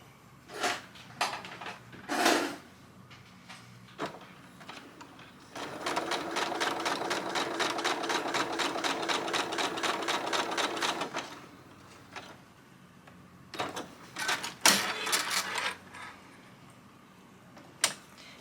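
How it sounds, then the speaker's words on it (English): A sewing machine stitches a quilt along a line: a steady rapid mechanical chatter for about six seconds, close and clear, bracketed by scattered clicks and thumps of handling fabric and pins, no talking. "we're just going to put our foot right down and we're going to sew right along that line."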